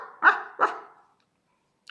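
Two quick, loud barks from a dog close by, one right after the other, then silence.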